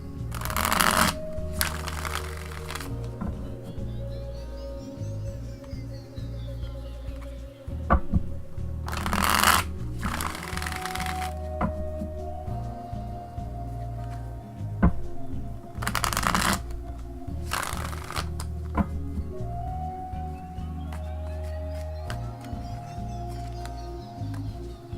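A deck of tarot cards is shuffled repeatedly, with bursts of riffling and flapping card noise at regular intervals over a low steady background hum.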